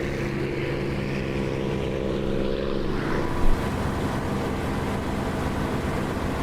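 A propeller aircraft engine drones steadily in flight in the DCS flight simulator game, running at about boost 7 and 2,700 RPM; the loud, constant hum fills the whole stretch with a slight shift in tone partway through.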